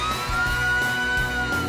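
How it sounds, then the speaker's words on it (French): A loud, close fire engine siren wails continuously with a steady high tone and a low rumbling engine underneath, from the cartoon Blaze and the Monster Machines. "Ça ressemble à une sirène de pompiers!"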